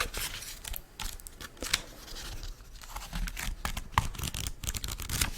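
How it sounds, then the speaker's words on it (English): Several quick, close notebook page flips in a row, crisp rustling swishes with short pauses between them. "So, the page turning, or the page flip."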